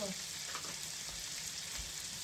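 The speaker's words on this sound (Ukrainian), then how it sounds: "Хай смажиться." Steady sizzling of food frying in a pan, a continuous crackling hiss with a faint clink partway through.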